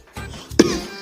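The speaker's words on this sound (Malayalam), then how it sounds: "ഈ ചുമ എന്നെ കൊണ്ടേ പോവും" A person coughs in a short indoor burst, a couple of rough, throaty hacks in quick succession followed by a strained, voiced tail.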